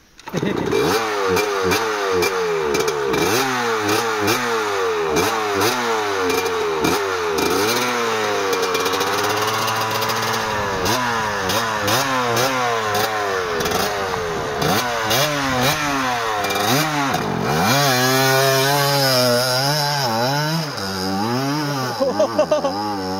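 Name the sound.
trail motorcycle engine revving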